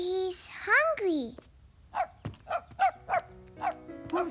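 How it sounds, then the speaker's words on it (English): A small dog yips in a rapid series of short, high barks, preceded by a voice. "He's barking"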